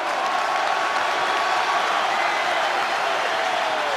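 A rugby stadium crowd at a Munster match cheers and applauds in a dense, steady roar that holds at full level throughout, with no single voice standing out.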